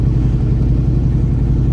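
Ford truck engine rumbling close by, a loud, steady low idle drone with no talking over it.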